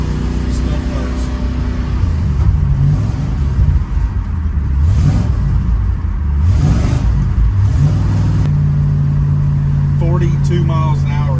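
A 1967 Ford Country Sedan with a faulty transmission pulls away in first gear on a test drive, its engine revving loud and steady before a shift, while someone talks over it.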